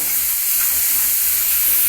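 Onions sizzling and frying in oil in a pan, with grated onion added and stirred for a thick curry. A constant loud hiss of frying fills the clip and no one speaks.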